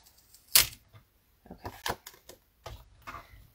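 A paper trimmer slices a quarter inch off a sheet of cardstock at a crafting desk, with a sharp click of the blade followed by soft scraping and sliding sounds as the strip is cut, up close and quiet.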